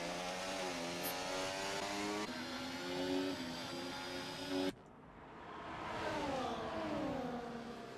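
Race cars in a Chinese Grand Prix race, a McLaren closely chasing an Alpine, with steady high-pitched engine whine that rises and falls through gear changes and shifts pitch sharply partway through, continuous and fairly loud.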